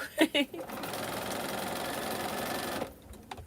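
A sewing machine stitching half-square-triangle quilt pieces runs in a steady, fast mechanical buzz for a few seconds, then stops; a voice speaks briefly just before the stitching starts.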